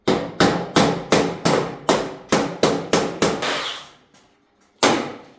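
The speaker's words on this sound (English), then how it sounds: "So I'm gonna put some rivets. I'm gonna put some rivets in." Rivets are hammered into a steel and brass bull sculpture, about a dozen loud ringing blows in a quick, even rhythm, then a pause and one final strike.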